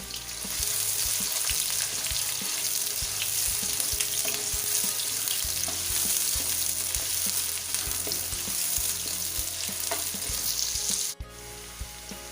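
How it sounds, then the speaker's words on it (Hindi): Chopped onions sizzle and fry steadily in hot oil in a pan for arvi (taro root) sabzi, a loud continuous crackle with occasional stirring clatter, close up with no talking. "सबसे पहले हम इसमें डालेंगे प्याज। प्याज को अच्छे से गोल्डन ब्राउन होने दें।"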